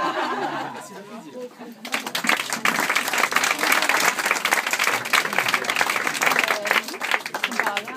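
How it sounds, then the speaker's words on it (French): An audience at a hypnosis show in a café breaks into sustained, dense applause after a quieter opening with a voice, clapping loudly and steadily for about six seconds amid some crowd noise. "Merci d'applaudir Pierre, elle a été vraiment géniale"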